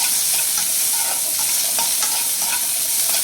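Paneer masala ingredients fry loudly in a pan, a dense continuous sizzle broken by quick scraping stirs of a spatula, close and without speech.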